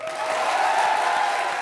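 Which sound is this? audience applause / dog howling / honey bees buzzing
audience applause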